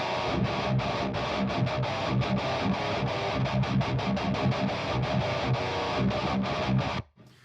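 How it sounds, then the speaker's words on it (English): Two thick, distorted electric guitars, recorded at home and panned hard left and right, chug a rhythmic riff together for about seven seconds before stopping abruptly. "let's pan the guitars left and right."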